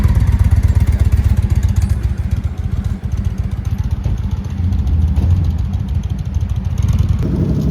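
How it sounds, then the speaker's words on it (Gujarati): A motorcycle engine running and passing close by, a loud steady low rumble with a slight dip midway, heard alone. "તો આ જાય બાઇક"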